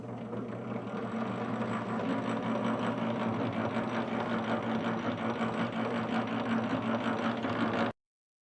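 A honey extractor spins honey frames in a beekeeping setting, giving a steady mechanical hum with a fast rhythmic pulse that runs evenly until it cuts off abruptly near the end.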